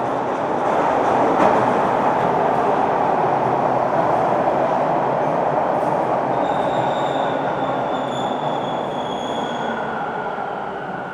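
A Toronto subway train rumbles loudly and continuously as it arrives, with high metallic wheel squeals rising midway through, no voices.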